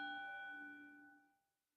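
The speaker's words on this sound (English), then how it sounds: "As you follow the bell" A mindfulness bell is struck once and its clear, ringing tone hangs on, fading slowly into silence. It is heard alone, softly and with no talking.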